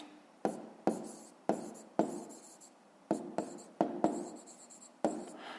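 A pen writes by hand on paper while working a 5th-grade maths exercise, producing quick scratchy strokes in short bursts of about a dozen sharp onsets, close and fairly quiet, with no talking.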